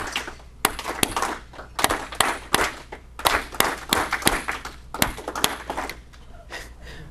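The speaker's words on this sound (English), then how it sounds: "Okay, we're gonna clap." Rotary club meeting audience clapping in unison, a series of sharp, separated group claps with short pauses between, moderately near and without talk.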